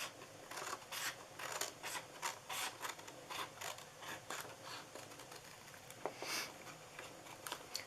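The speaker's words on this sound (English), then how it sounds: "I'm going to cut this top part off here, and you can cut all the way down." Scissors cut through a paper treat box with a quick, rhythmic run of close snips and crisp rustles, fairly quiet and with no voices.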